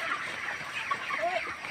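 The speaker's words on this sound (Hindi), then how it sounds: "तो यहाँ पर सारे पोल्ट्री यहाँ पर हैं जो कि फिलहाल दाना खाते हुए" Poultry clucking while eating grain, a steady close chorus of soft overlapping clucks and chatter with no pauses.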